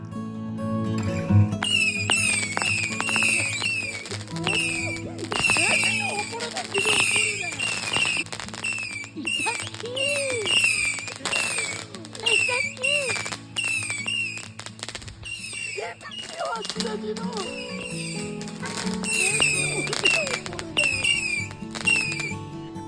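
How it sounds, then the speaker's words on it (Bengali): A Halloween special firework shell from a home Diwali celebration goes off with rapid crackling pops, squeals and whistling bursts sustained throughout, fairly loud and close, with a voice talking underneath. "প্রথমেই একটা মজার বাজির আওয়াজ শোনাবো দুটো প্যাকের মধ্যে একটা প্যাক ছিল হ্যালোইন স্পেশাল তার মধ্যে একটা শেল ছিল"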